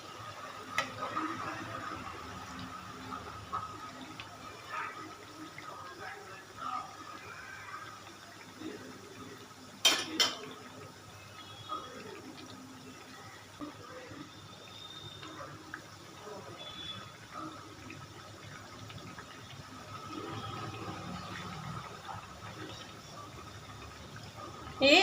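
Ragi moong dal thattai deep fry in hot oil with a continuous bubbling, crackling sizzle at moderate level, with a sharp clatter around the middle and occasional utensil sounds.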